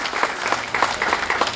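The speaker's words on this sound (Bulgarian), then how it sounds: "Моля, много аплодисменти." Audience applause at a public ceremony, dense steady clapping from many hands at close range, continuous and lively throughout the short burst with no voices over it.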